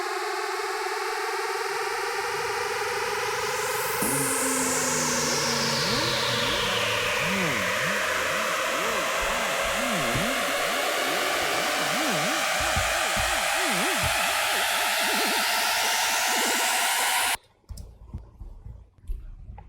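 A riser build-up effect in an electronic dance track, a long swelling wash of white noise and pitched tones sweeping upward with pulsing filtered layers, cutting abruptly to near silence near the end.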